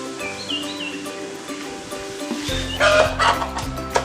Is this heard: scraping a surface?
no